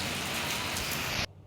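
Steady rain falls in a dense, even hiss that holds for over a second and then stops abruptly, with no voices.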